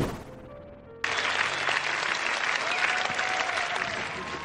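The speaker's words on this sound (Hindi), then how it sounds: "सिद्धू साहब, इतनी तालियां बजा रहे हैं" Studio audience at a television talk show bursting into loud, dense applause after a brief moment of talk, the clapping holding steady and close to the end.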